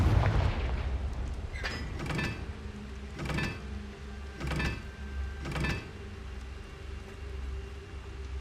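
Confringo explosion spell in a video game, cast again and again: five dull, punchy blasts at a fairly even pace over a steady low hum, with no voices.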